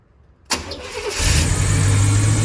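A car engine with a new carburetor and fresh spark plugs cranks briefly, then catches and settles into a steady, loud idle that stays up close.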